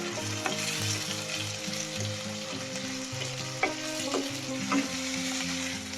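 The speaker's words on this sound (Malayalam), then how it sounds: "തക്കാളി നല്ല രീതിയിൽ മൂപ്പിച്ചെടുക്കാം." Tomatoes sauté in a pan for a Kerala pappadam curry, a loud, steady sizzle and hiss with occasional stirring clatter and faint tonal hum beneath, no talking.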